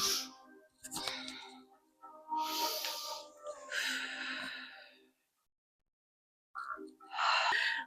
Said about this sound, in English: A few deep rounds of breath here.